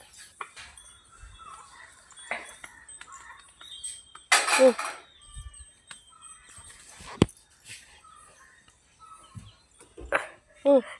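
A puppy yips and whimpers in short, scattered bursts close by, amid quiet background activity and a few knocks.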